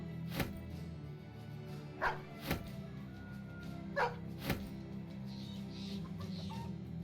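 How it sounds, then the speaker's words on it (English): Dogs in the Battle Brothers video game bark in a handful of sharp, separate barks spread through the clip, heard over a steady game ambience bed. "Nice, we've got ourselves a bit of a dog horde here."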